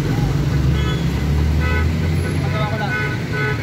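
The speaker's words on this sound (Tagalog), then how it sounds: "ito po ang kalagayan ngayon ng traffic dito po sa San Rafael, Cruzadaan" Heavy road traffic crawls through San Rafael, Cruzadaan on a crowded market day, with a steady engine rumble, close and loud, and a few short car horn toots breaking through while people talk nearby.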